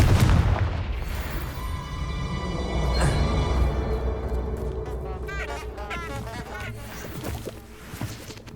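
Confringo blasting spell in the video game Hogwarts Legacy going off as heavy booming explosions, a loud blast at the start and another around three seconds, followed by crackling debris and rumbling decay.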